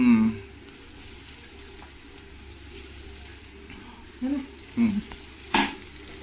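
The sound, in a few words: onion and garlic frying in a pan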